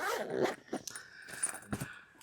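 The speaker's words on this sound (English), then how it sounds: "Let's see if it'll all zip up now. Yes, zips up beautifully." A zipper is pulled closed around an art supply case packed with drawing materials, a short series of quick rasping pulls at close range with small handling knocks, and no voices.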